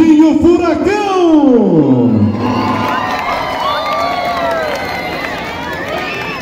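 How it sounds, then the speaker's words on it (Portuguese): A live show crowd cheers loudly, with shouting and whooping voices sweeping up and down over a steady roar of the audience. "palmas de vocês"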